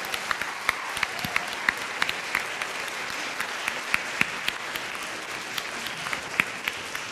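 A crowd at a stage gathering claps steadily to welcome the Taiwan team leader, a sustained even applause with distinct sharp individual claps standing out close by.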